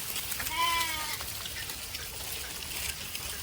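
A single goat kid or sheep gives one clear bleat early on in an open field as the flock sets off, followed by faint rustling and a trickling background.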